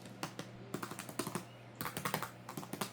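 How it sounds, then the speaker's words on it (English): Keys pressed on a MacBook keyboard: a close, irregular run of crisp clicks and taps for three seconds, with a short pause partway through and no voices. "Here are those keys pressing then."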